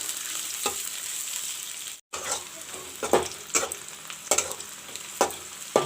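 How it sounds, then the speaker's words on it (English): Onions with bay leaves fry in a pan for a pumpkin curry, a steady close sizzle with several sharp stirring scrapes spread through, and a brief silent gap near the start. "and fry the onions."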